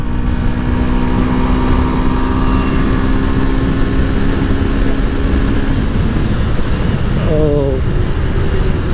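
A Yamaha FZ-S BS6 motorcycle rides in top gear, its engine a loud, steady drone mixed with strong road and wind rumble, with a brief rising tone near the end.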